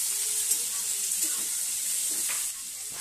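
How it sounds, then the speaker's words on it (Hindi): Sliced onions and green chillies fry in hot oil in a pan for egg masala, a steady, close hiss of sizzling that continues throughout with slight stirring shifts. "देखो तो पियाज कंचा लंका आधा भाजी हे गलानी।"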